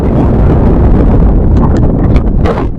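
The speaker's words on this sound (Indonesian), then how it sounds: "Ini berat juga karena angin gede." Strong gusts buffet the microphone outdoors during a pigeon free-fly session, producing a loud, continuous roar of wind noise with no talking.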